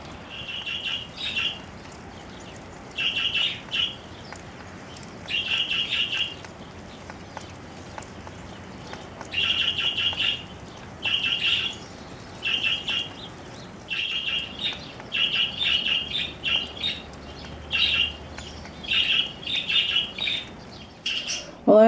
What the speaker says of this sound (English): Oh, here's some doves.